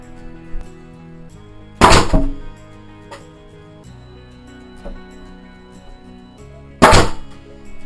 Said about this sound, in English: Next we use our nail gun and nail it all together.